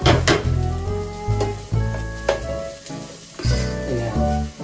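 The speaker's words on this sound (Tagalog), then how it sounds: "Igigisa natin ngayon ang bawang at ang sibuyas na magkasama" Garlic and onion sautéing together in a pan for adobo, a steady sizzle with utensil scrapes and clinks against the pan, close and fairly loud, over background music.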